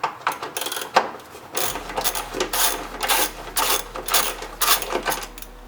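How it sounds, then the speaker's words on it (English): A ratchet undoes bolts in the engine bay of a 1993–1997 Toyota Corolla during air intake and fuse box removal, giving close, repeated bursts of quick mechanical clicking in an uneven rhythm. "Now you can get your ratchet in there, undo them."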